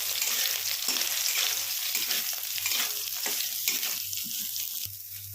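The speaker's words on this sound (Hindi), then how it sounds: "उसमें सोया बड़ी को ऐड कर लेंगे। इनको गोल्डन ब्राउन होने तक फ्राई करेंगे अच्छे से।" Soya chunks frying in hot oil in a kadhai until golden brown, a loud continuous sizzle with a few soft scrapes of a stirring spoon and a low steady hum underneath, no talking.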